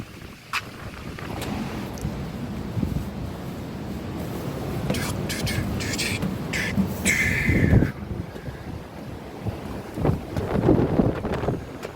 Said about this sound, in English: Wind's ripping out here, man.